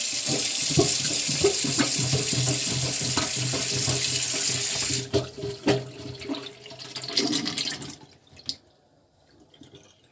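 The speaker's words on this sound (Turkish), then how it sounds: "Varsa pompanız yine her ihtimale karşı suyu açıp şöyle bastırıp çekelim." Tap water runs steadily into a sink while a clogged drain is plunged, then the flow stops and a few gurgles and drips sound from the emptying basin.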